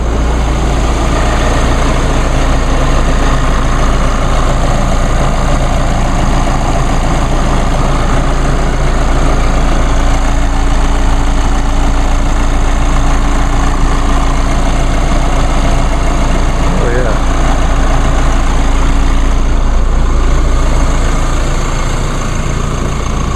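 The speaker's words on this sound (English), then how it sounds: "I think that this diesel engine is much quieter than the diesel engine in my mother's car." A 2016 Chevrolet Colorado LT 4x4 with a diesel engine sits idling, giving a steady, loud, close low rumble with a constant mechanical drone that holds unchanged for over twenty seconds, with no talking.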